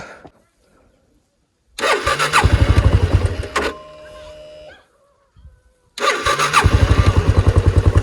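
A new motorcycle is kicked or cranked into life twice on a cold morning, each start catching into a loud, close, rapid idling thump, with a quiet gap between the attempts.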